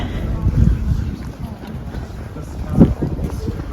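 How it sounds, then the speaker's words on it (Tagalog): Gusty wind buffets the microphone with low rumbling bursts, rising and falling, while a voice speaks faintly underneath. "Mahangin."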